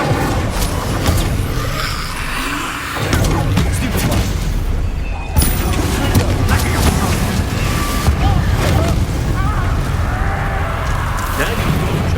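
Incendiary fire spells blasting in Hogwarts Legacy combat, a loud continuous roar of booming, crackling bursts with layered impacts, dense and close throughout.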